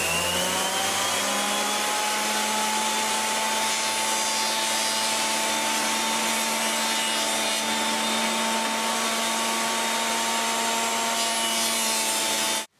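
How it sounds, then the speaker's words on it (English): A jointer smooths wooden boards with a continuous, loud machine whine and a sustained cutting rasp for about twelve seconds, then stops abruptly; no one speaks. "All 4 boards have been run over the jointer to get a smooth, flat surface"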